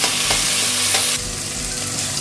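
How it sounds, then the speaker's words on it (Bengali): Onion, tomato and green chilli sizzle and crackle loudly in hot oil while being stirred, a dense close frying hiss that drops slightly partway through. "দুটো কাঁচা লঙ্কা দিয়ে আমি ভালো করে এটাকে ভেজে নেবো"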